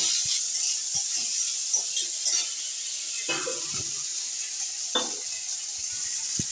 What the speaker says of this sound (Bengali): এবার আমি কড়াতে একটু তেল দিয়ে দিয়েছি আর একটু পেঁয়াজ কুচো দিয়ে দিলাম পরিমাণ মতো